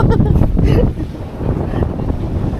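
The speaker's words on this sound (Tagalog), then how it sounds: "Sobrang hangin." Strong wind on Balaki Island buffets the microphone with heavy, low rumbling gusts, easing briefly partway through before roaring again.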